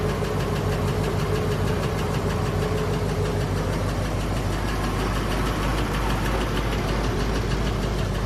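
A 1932 Ford Roadster's engine idling close by, a loud, steady, even rumble that holds without change throughout.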